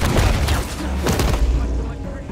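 Booming gunshots ring out in Spider-Man: Miles Morales, with a few loud, echoing blasts over rumbling game noise in a short burst.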